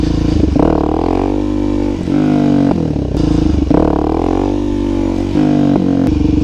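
A Suzuki DRZ SM motorcycle with a loud, raspy MRD Racing aftermarket exhaust revs hard twice, each rise climbing then dropping back to a throaty, rumbling idle between pulls.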